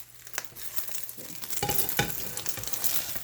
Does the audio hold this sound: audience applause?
no